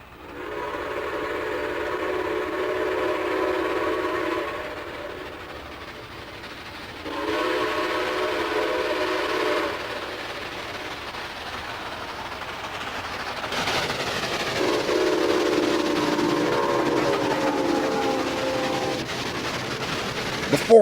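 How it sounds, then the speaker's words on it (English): Nathan CofG 6-chime steam locomotive whistle blown at 200 psi, sounding three long chord blasts separated by short gaps, loud and steady with a rich layered tone. "Here's a sample of the whistle here being blown at 200 psi."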